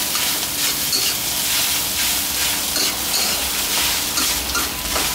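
Rice being stir-fried in a hot wok for soy sauce egg fried rice, giving a steady, close, loud sizzle and hiss with the scrape of stirring throughout and no talking.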